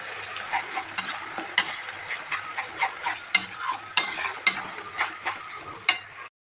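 Ginger, garlic, green chilli and onion paste hitting a hot pan, sizzling steadily while a spoon stirs in a regular rhythm of sharp scraping strokes, close and clear with no voices.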